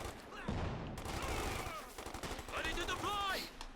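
Thompson machine gun fire rattles in quick bursts during a Company of Heroes 2 battle with paratroopers, fairly quiet and mixed with other battle sounds and a voice talking.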